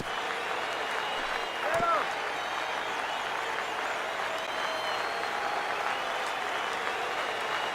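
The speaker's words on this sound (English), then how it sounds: "Now what's left of this crowd this afternoon gets to their feet." Crowd applauding at a baseball game in MLB The Show 19, a steady distant wash of clapping and cheering from a thinned afternoon crowd, with a brief tone near the start.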